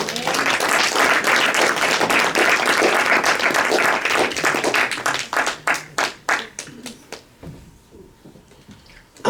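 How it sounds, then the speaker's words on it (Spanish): A church congregation claps as an offering of applause, a dense burst of many hands together that thins into scattered, separate claps and fades toward silence, with some voices mixed in. "¿Por qué no damos una ofrenda de palmas al Señor?"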